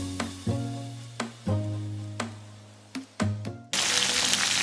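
Cuttlefish frying in hot oil: a loud, hissing sizzle bursts in near the end, preceded by a few seconds of ringing tonal notes and sharp clicks.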